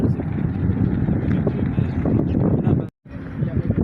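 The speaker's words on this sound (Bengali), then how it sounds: "প্রচণ্ড বাতাসের সাথে এখানে গুড়ি গুড়ি বৃষ্টি পড়ছে" Strong wind with light drizzle outdoors in Dammam, Saudi Arabia, heard as heavy, rumbling wind buffeting close to the microphone, cut by a brief dropout near the end, while a voice talks over it.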